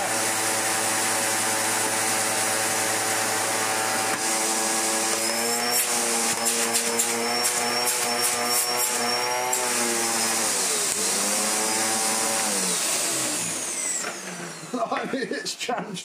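A Hoover Dustmanager bagless vacuum cleaner runs steadily with its hose removed, a loud continuous motor whine and airflow roar that shifts pitch partway through, then falters near the end as a voice starts talking.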